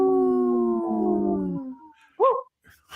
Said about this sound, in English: As you could hear, there's 3 howls there